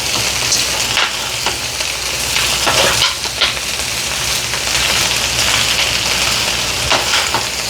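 Small onions sauté in a pan with a loud, close, continuous crackling sizzle, broken by several sharp scraping stirs.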